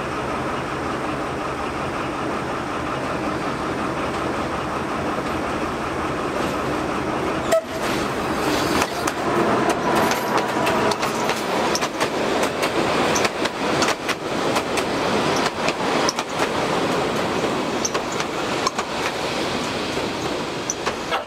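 A narrow gauge train in Bulgaria rumbles along the track, its steady broadband roar swelling and turning to rattling clatter partway through, loud and continuous with no voices.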